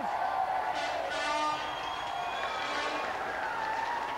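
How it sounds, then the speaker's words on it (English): Studio audience applause and cheering on a video-game television show after a fighting-game showdown, a moderate wash of clapping with a few whoops, while music or other sounds sit over it. "That's a round of applause."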